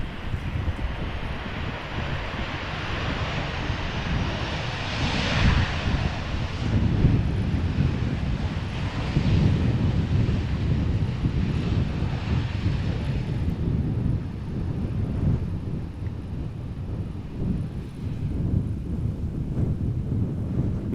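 A Royal Air Maroc airliner arrives at Amsterdam Schiphol Airport from Nador, its distant engine rumble rising and falling under heavy gusting wind buffeting the microphone.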